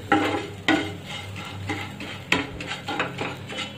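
A vegetable Maggi cutlet mixture lightly frying in a pan, a soft sizzle under repeated scraping and tapping of a spoon against the pan, close and moderately loud with no talk.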